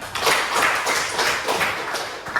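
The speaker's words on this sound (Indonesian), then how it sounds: "Tepuk tangan kepada Dewi" A classroom of students claps for a classmate, a dense, steady patter of many hands lasting a couple of seconds with no voices over it.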